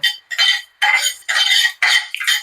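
Chicken dry-fried in a pan is stirred with a metal spoon, making about five distinct scraping, rattling strokes in an even rhythm, close and clear with no voices.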